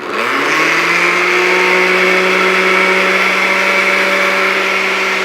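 An electric hand mixer runs loud and steady on Swedish pancake batter, a continuous whirring drone that spins up at the start and holds for several seconds with no talking.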